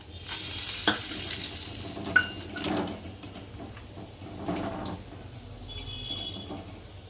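Curry leaves sizzle and crackle in hot oil while making poha chevdo, with occasional sharp spits and the scrape of stirring.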